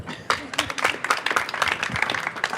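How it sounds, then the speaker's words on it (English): Audience at a live COP26 energy event bursting into applause, a dense run of claps from a moderately sized crowd that starts abruptly and carries on evenly, heard from inside the room. "That deserves a round of applause."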